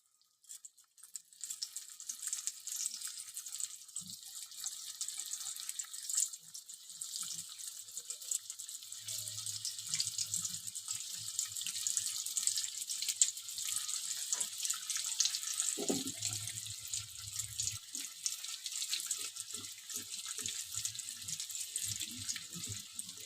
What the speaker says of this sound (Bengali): তেল আমার গরম হয়ে গেছে, এখন আমি এক এক করে ভেজে নেব চিকেন বলগুলো।